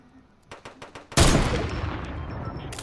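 Rapid gunfire in a first-person shooter game: a few soft taps lead into a loud burst of shots with a sustained, decaying roar, close and dominant with no talk.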